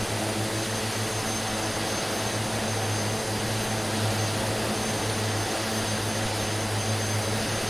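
Twin Otter turboprop engines in Microsoft Flight Simulator 2020, flying a Kathmandu–Lukla route: a steady, loud propeller drone with a low hum, constant throughout without a break.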